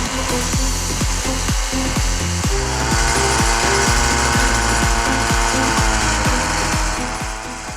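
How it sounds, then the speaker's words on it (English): A demolition saw with a very dull blade grinds into bedrock on a steep hillside house site, a loud continuous roar with rapid rhythmic rasping pulses throughout. "the blade on the demo saw is getting very dull"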